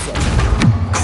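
A Depulso spell cast in the video game Hogwarts Legacy, a single soft, muffled thump with a brief whooshing push near the middle, fairly loud against a steady low game ambience.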